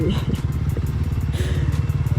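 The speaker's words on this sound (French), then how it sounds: "elle roule avec une moto pas puissante" A low-powered motorcycle riding slowly on a dirt track, its engine putting out a close, rapid, throbbing putter with some clattering, while a person talks over it.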